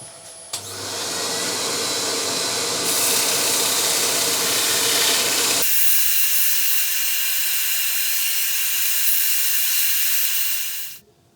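Wooden bowl with an undercut being sanded as it spins on a woodturning lathe, a loud, steady broadband whoosh and hiss that runs continuously for about ten seconds, heavier at first, then thinner until it stops abruptly.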